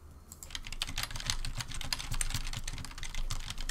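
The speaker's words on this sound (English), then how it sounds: "I'm going to do some typing." Rapid clicking keystrokes on a computer keyboard patter in quick irregular bursts, close and clear, beginning after a short pause and continuing steadily with no talking.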